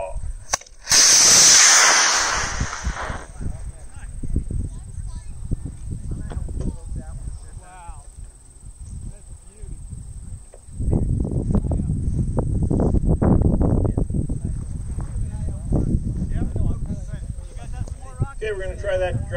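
An Estes Mean Machine model rocket lifts off on an E20-4W motor with a short, loud hissing whoosh at the start. Voices and outdoor chatter carry on afterward.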